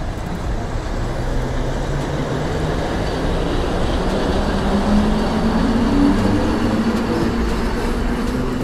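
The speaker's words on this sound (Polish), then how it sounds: "Pociąg osobowy ze stacji Góra Gadaja do stacji Zielonka jedzie na tor 23 przy peronie 7" A passenger train rolls past at a station with steady rumbling wheels and faint squealing, close and loud, no voices.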